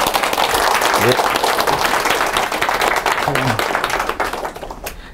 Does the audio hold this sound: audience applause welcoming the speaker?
yes